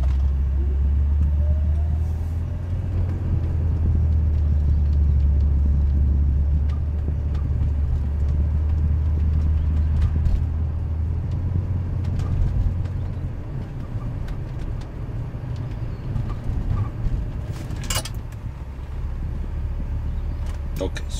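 A car rolls forward in drive with a steady low engine rumble that eases midway, then brakes to a stop under a continuous road-vehicle drone, with faint clicks near the end.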